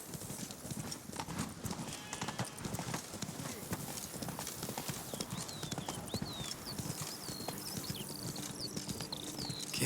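Roach, the horse in The Witcher 3, gallops with steady, rapid clip-clop hoofbeats throughout, accompanied by soft background ambience and faint chirping tones.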